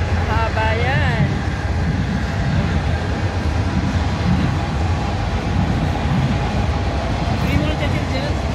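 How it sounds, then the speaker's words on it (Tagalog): A CN Rail train passing near a lake, a loud continuous rumble and rattle of wagons filling the whole stretch, with voices talking over it. "Hi, CN Rail Train."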